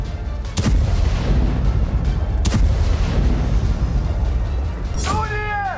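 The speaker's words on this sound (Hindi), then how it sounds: "अवदीका में भी रूसी सेना की तोपों ने यूक्रेन की चौकियों पर बारूद बरसाया।" Russian artillery firing on Ukrainian positions near Avdiivka: heavy booming blasts at intervals over a loud continuous rumble, with a rising whistling streak near the end.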